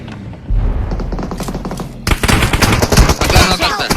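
Rapid automatic gunfire in the battle-royale game PUBG Mobile during a tournament final, with a quieter burst of shots followed by a louder, dense stretch of repeated bangs and thuds close by.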